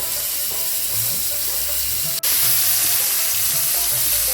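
Salted dried fish coated in turmeric frying in hot oil in a pan, a loud steady sizzle with a brief break midway, then a surge of hiss.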